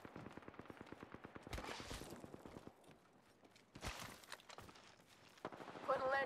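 Video game gunfire in Apex Legends: a fast automatic burst of rapid shots, then shorter bursts and mechanical clicks, fairly quiet, with players talking over it.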